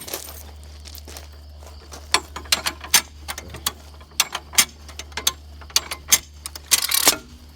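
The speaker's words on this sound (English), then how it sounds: "I'm gonna go ahead and take my wobbly jack out of here." A small cheap floor jack being lowered and pulled out from under a 2016 Ford F-150 pickup, giving a run of sharp metallic clicks and ratcheting rattles that speed up into a dense clatter near the end, over a steady low hum.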